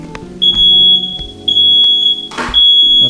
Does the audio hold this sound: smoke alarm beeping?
yes